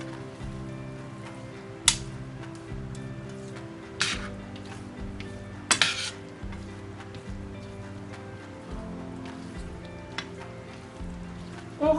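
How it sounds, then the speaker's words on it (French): Spinach pie mixture is stirred in a bowl with a quiet, steady swishing and scraping, broken by a few sharp clicks and knocks from the utensil against the side. "On remue."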